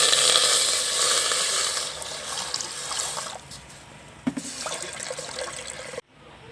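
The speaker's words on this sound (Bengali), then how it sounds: "এবার আমি জল দিয়ে দিচ্ছি।" Water pours steadily into a pot on a lit stove in a home kitchen while chicken chow mein is being prepared, a close, continuous splashing rush that fades and ends abruptly.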